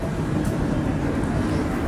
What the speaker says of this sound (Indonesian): Kereta lagi.